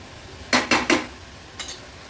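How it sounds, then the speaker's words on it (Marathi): A spatula stirs a matki sprout curry in a pan over a high flame. Three quick, sharp metallic clanks come in a row, then after a pause a softer fourth scrape. There is no talk. "हाय फ्लेमवर थोडी अशी परतून घेते"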